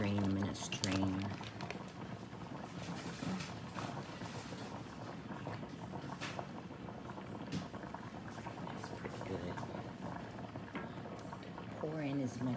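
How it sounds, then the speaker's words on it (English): Cooked vegetables for a southern chicken pot pie drained through a strainer, a steady rush of pouring water and hot liquid splashing continuously, with brief clatter and a voice speaking near the start and end. "I'm just going to drain them in a strainer."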